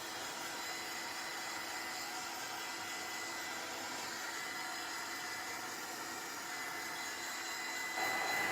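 Hair dryer blowing steadily on a steampunk Christmas tree craft project, a constant close whooshing hum that holds unbroken the whole time before swelling slightly at the very end.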